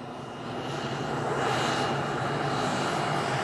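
A loud, continuous aircraft engine roar on a runway at Kennedy Space Center, Florida, that swells in the first half-second and then holds steady, with no voices.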